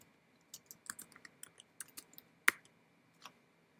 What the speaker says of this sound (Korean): 여기 인필드에 font awesome 이라고 타이핑합니다